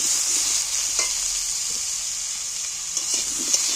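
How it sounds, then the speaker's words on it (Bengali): Potatoes set aside for a jackfruit curry fry steadily in a hot pan, a continuous close sizzle with occasional stirring clicks and no voices. "এঁচড়ের জন্য আলুগুলোকে আমি প্রথমেই আলাদা একটু ভেজে দিচ্ছি"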